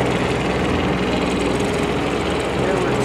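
A 2020 Kubota U27-4 mini excavator running and two-speed tracking, its diesel engine droning steadily and loudly up close with a constant low rumble, while someone talks over it.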